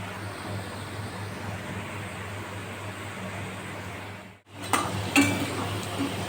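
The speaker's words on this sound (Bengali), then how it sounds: "আমার এই আলুটা ভাজা হয়ে গেছে, এবার এই আলুটা আমি তুলে নেব।" Potatoes frying in oil give off a steady close hiss and sizzle that cuts out briefly, then returns with a few light clinks of a utensil against the pan.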